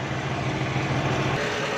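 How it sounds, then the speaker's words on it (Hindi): A Suzuki Jeep petrol engine idles steadily, fed with petrol from a bottle instead of its leaking tank, giving a close, continuous rumble with no talk. "ये हमारा पेट्रोल पर गाड़ी चल रही है।"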